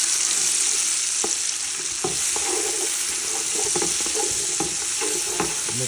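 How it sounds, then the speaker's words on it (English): Onions sautéing in a pan, a steady bright sizzle with intermittent scraping taps of a utensil stirring them through, close and continuous with no voices. "Go ahead and give that a little stir."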